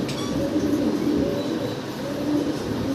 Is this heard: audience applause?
no